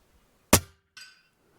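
A single sharp rifle shot from a scoped rifle cracks out once, loud and close, with a short echo trailing after it in an otherwise quiet outdoor setting.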